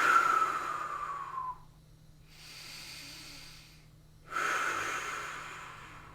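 Slow, deliberate breaths through the nose while a person holds a core-brace exercise position, shaking slightly: a long exhale, a quieter pause, then a sharp inhale, close and alone.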